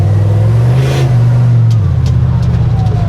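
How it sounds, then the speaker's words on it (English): A car engine hums low and steady, then revs up briefly with a rising whine and faint turbo whooshes, close and loud throughout. "Bit of turbo noises, eh?"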